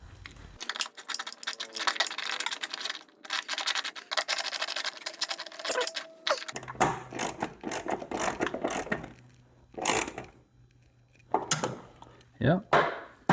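Self-tapping screws are driven into slightly misaligned mounting holes while working on a 302-powered hot rod Ford Maverick, giving close ratcheting clicks and metallic turning bursts in irregular spurts, with quiet gaps between them.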